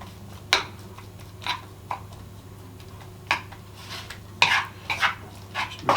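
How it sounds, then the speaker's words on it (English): Light scraping and clinking of a frying pan being tilted and worked to spread oil while making a bacon, mushroom and cheese omelette, a handful of short, close taps and scrapes spaced irregularly over a low steady hum. "Just move it around, make sure all a bit of oil all over the pan"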